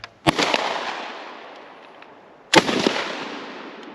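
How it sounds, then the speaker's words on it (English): A rifle firing 1942 surplus ammunition goes off twice outdoors, each a sharp, loud report with a long fading echo, the shots about two seconds apart and a faint click before the first. "No, but it gave me that click bang"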